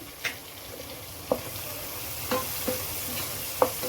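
Turmeric, chili powder and salt being stirred into a frying curry of tomato, green chili and curry leaves in oil, with a soft steady sizzle and a few sharp spoon clinks and scrapes against the pan.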